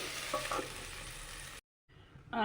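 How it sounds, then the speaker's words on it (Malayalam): Sliced okra scraped and stirred in a pan over a very low flame, a soft steady sizzle with spoon scrapes that cuts out briefly and then resumes, with no talking. "നമ്മളുടെ വെണ്ടക്കായ ഞാൻ രണ്ട് പ്രാവശ്യം ഇളക്കി കൊടുത്തു"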